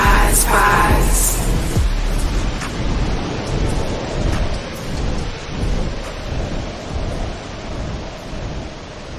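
A thunderstorm with drenching rain: a loud crack of thunder at the start rolls off into steady heavy rain that pours on close by without a break.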